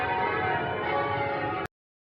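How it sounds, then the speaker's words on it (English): Derby Cathedral's church bells ring across the city centre on a Sunday morning, a steady wash of overlapping metallic tones that sounds on without pause before cutting off abruptly. "all you can hear is the church bells. So that's Derby Cathedral."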